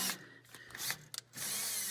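A Milwaukee power drill whirring in short bursts, stopping and restarting several times with brief mechanical clicks and rubbing, heard close up during a gauge install on a turbo diesel Delica.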